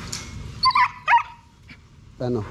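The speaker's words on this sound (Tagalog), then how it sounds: "Ito yung aso na dinala ko" A small dog gives a couple of quick, high yips followed by a short bark, with a person talking nearby.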